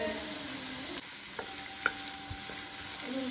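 Onion fries in hot oil while being stirred, a steady close sizzle broken by a few light scrapes and taps of a spoon against the pan.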